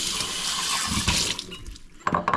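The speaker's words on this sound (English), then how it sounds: "dump out our bowl of now dirty water and soap" Dirty, soapy water is poured from a bowl into a sink in a sloshing rush, close and loud, then stops abruptly before a few short splashes.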